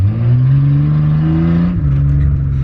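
A Toyota Cressida, a bosozoku-style build on a snowy day, revs up loud and close, its engine note climbing steadily before dropping back as the throttle lifts.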